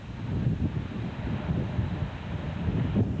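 Strong wind buffets the microphone outdoors on a very cold day, a loud, continuous low rumble with gusting swells and no voices.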